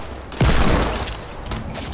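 Video game gunfire erupts in a sudden loud burst that fades over about a second, followed by a fainter second shot, with no talking over it.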